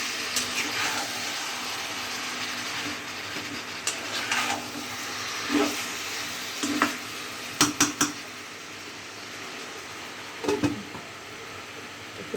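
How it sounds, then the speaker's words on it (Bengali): Meat being stir-fried in a pan for a Bengali bhuna, heard as a steady low frying hiss with scattered scrapes and clinks of a utensil against the pan, bunched in short bursts near the middle and the end. "এখন ভালো মতো কষাবো।"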